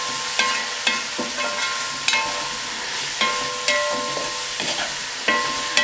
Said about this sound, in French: les lardons, les champignons que vous avez émincés, et vous faites revenir